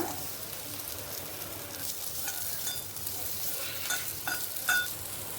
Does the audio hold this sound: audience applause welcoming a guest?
no